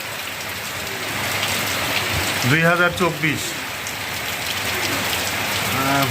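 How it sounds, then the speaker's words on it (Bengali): Heavy rain falls outside in a steady, dense hiss of drops striking surfaces, with someone speaking briefly in the middle over the continuous downpour. "বৃষ্টি হচ্ছে বাইরে বেশ"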